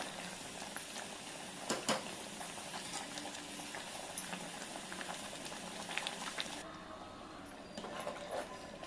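Chana dal and coconut curry boiling in a pot, bubbling continuously and softly up close, growing a little quieter toward the end.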